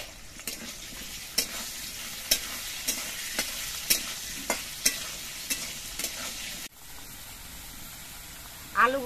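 Potato pieces fry in oil in a pan with a steady soft sizzle, punctuated by regular scraping clicks of a spatula stirring roughly every half second, close and moderately quiet; the sizzle briefly drops near the end.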